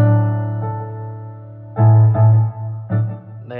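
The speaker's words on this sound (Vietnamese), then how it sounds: "Ví dụ đây tiếng đàn upright piano này." The upright piano voice of an SX700-SX900 electronic keyboard plays a short demo phrase of sustained notes and a few struck chords, clear and close with no talk.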